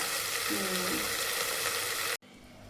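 Dry spiced potatoes sauté in a hot pan, giving a steady, close, crackling sizzle that runs unbroken for about two seconds before cutting off abruptly into quieter background noise.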